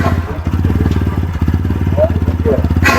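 A motorcycle engine runs at idle with a fast, even thumping beat, loud and close, while someone talks over it.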